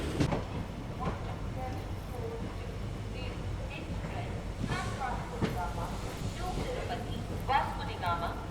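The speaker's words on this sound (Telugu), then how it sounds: "అదే ఒక దంపుడు మనకి గుంతకల్ వరకు అయితే ఉంటుందన్నమాట డీజిల్ దంపుడు" A diesel locomotive-hauled Vasco Da Gama to Hyderabad weekly express runs between Hubli and Guntakal, its steady rumble and rattling carriages filling the background while people talk and call out nearby.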